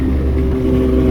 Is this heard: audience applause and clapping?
no